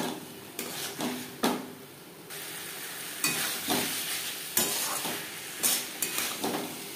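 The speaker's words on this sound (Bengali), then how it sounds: "তিন চার মিনিট মশলার সাথে মটর কষিয়ে নেওয়ার পর দিয়ে দিলাম আলু।" Potatoes tossed into a pan of peas and spices frying for ghugni, a low sizzle with repeated scraping stirs and soft clanks of utensil on pan at intervals, close with no talk.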